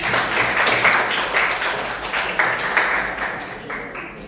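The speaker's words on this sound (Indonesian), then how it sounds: "Beri tepuk tangan untuk Dimas" Students in a classroom applaud a classmate, a dense patter of many hands clapping at once, steady and fairly close, tapering off toward the end.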